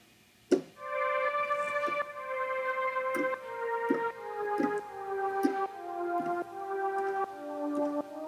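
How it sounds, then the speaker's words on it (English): Heavenly synth tone with a slightly haunted carnival feel, bright sustained notes stepping downward in a slow melody, punctuated by soft ticking clicks, moderately quiet and without voices. "It's like a heavenly synth."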